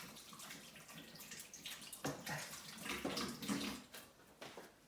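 Hands being washed under a running tap, a soft, fairly quiet steady stream of water with splashing that swells and fades as the hands move through it.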